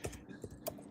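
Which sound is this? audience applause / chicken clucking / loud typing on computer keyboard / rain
loud typing on computer keyboard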